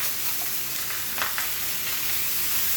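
Salmon searing in a pan just after being flipped, a continuous soft sizzle and hiss with a couple of brief spatters, no talking.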